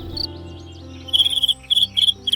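Cricket chirping in short, rapid bursts, close and clear, with a pause before a run of repeated chirp groups over a faint low background hum.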